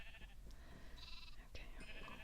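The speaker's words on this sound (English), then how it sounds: "Okay, I'm gonna mate the sheep," Sheep bleating in Minecraft during animal breeding, a couple of soft, nasal game bleats over a steady low background hum, faint and partly masked.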